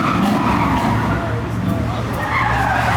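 Car skidding with tires squealing as the driver works the e-brake at a car meet, a loud sustained screech over a revving engine, with people talking and exclaiming nearby.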